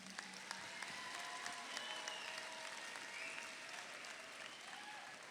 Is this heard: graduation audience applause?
yes